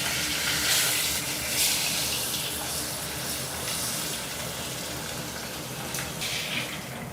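Piece of fish frying in hot oil in a pan, a steady close hiss and crackle running unbroken throughout.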